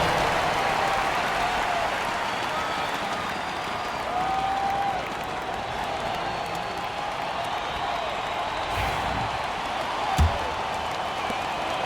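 Broad crowd applause and cheering in the NBA 2K25 basketball video game, Minnesota at LA Clippers, roll on continuously, a steady wash of noise with a sharp thump near the end.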